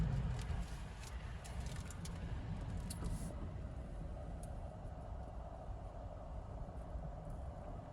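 Car driving slowly through the main part of small-town Barneveld after a 1984 tornado, steady low road and engine rumble throughout with faint intermittent rattles, close and continuous, no talk.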